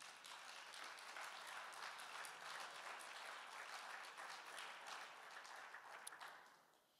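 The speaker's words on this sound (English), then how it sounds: "I think somebody ought to say amen and give the Lord a hand clap of praise" Congregation at a Church of God service breaking into sustained applause, dense hand clapping filling the room steadily for several seconds before tapering off at the end.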